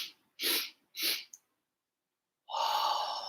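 Three quick sniffing breaths through the nose come in short separate bursts, followed by a longer airy exhale, all close and soft in an otherwise quiet space.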